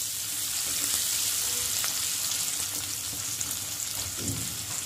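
Steady, loud sizzling of onions frying in a pan with fennel and cumin seeds, a continuous close hiss with occasional stirring.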